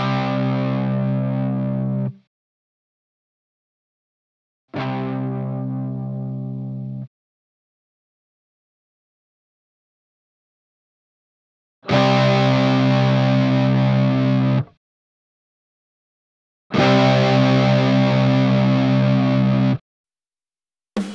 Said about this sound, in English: Let's have a listen on how the loop volume affects the gain of the overdrive.